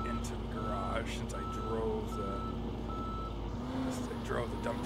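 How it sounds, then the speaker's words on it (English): A truck in the Snow Plow video game backs into a garage while its reverse alarm beeps steadily over a constant low engine rumble. "I'm gonna try to back this guy into the garage"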